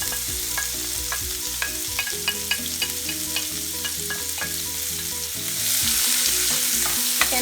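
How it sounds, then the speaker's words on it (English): Peppers, garlic and onion sautéing in oil in a pan, a close, steady sizzle with clicks of a utensil stirring and scraping, the frying hiss growing fuller toward the end. "I'm going to cook this saute for 3 minutes"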